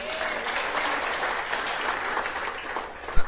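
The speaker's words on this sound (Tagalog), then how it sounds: "Palakpak ka ni Lord" A congregation at an Ilocano preaching service claps for the Lord, a broad, even roar of many hands sustained throughout before a sharp closing thump.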